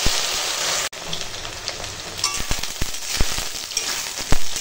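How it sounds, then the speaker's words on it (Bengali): Cut taro (kochu) fries in a pan with green chilli and bay leaf, giving a steady broadband sizzle close by, punctuated by a few sharp clicks and stirring knocks, with no voices. "কচুটা একটু ভেজে নেব।"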